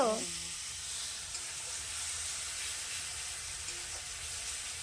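Whole garlic sautéing in a pan with ginger and cumin paste, a soft, even sizzle and hiss held steady throughout, faint and close, after a brief voice at the very start.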